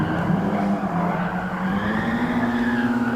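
Nissan 180SX fishtailing through a long tire skid in GT Sport on the Nordschleife, a loud sustained squealing screech over the steady engine drone that lasts throughout.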